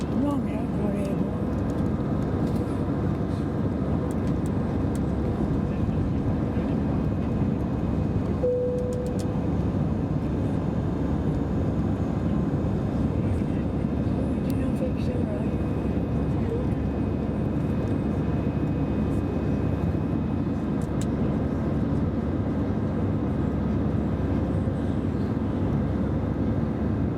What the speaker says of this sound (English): We're nearly airborne already. Right, what an acceleration.